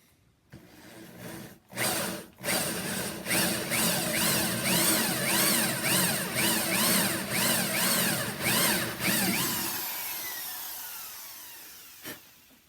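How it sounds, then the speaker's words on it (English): Jigsaw cutting a jack-o'-lantern mouth into a wooden box, a loud buzzing motor with rhythmic rising and falling strokes as the blade works through the wood, preceded by a couple of short bursts and ending in a brief final tap. "I wanted to get some practice in with my jigsaw"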